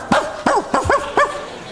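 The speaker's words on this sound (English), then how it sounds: "A dog." A dog gives a quick run of about five sharp, close barks with a few yelping tones, heard alone with no talk over it.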